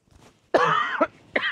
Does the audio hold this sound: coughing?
yes